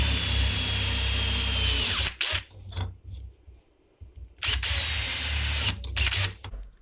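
Power drill fitted with a 3/16 bit cuts holes in a workpiece, two long, loud high whining runs separated by brief stops and short trigger bursts, heard close with no talk.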